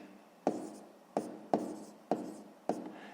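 A pen or pencil writing out a math solution on paper, five distinct scratchy stroke bursts each with a sharp onset and fading tail, close and fairly quiet with no talk.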